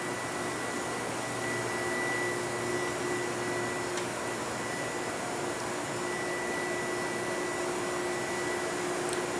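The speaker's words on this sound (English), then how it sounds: "Here's a dryer. As you can see, it's got a 2-station dryer." A two-station industrial dryer on a plating rack line runs with a steady, loud blowing whir and a constant tonal hum, unbroken throughout with no talking.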